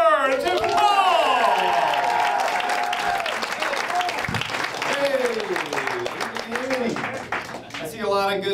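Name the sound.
comedy club audience applause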